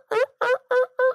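A person imitates a wild turkey gobble with four quick, loud, rhythmic bursts, close up and alone, as though calling back and forth with hens in a field corner.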